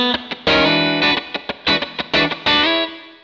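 Electric guitar cutting phrase with a sliding seventh chord plus ninth, mixed with single notes, giving short choppy strums and muted scratches in a tight funky rhythm, played through distortion and chorus effects.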